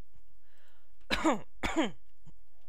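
Two quick, harsh throat-clearing coughs in succession, close and fairly loud, preceded by a moment of quiet.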